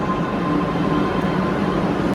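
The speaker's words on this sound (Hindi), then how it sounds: "ये देखिए मेट्रो आ चुकी है" A Lucknow Metro train pulls into a station platform, filling the scene with a steady, loud rumble and a faint whine that holds constant throughout.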